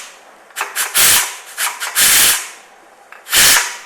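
Steam hissing from a pressure cooker as the weight is lifted, cooking a bottle gourd stir-fry; several loud bursts of hiss, short and longer, with brief quiet gaps between them.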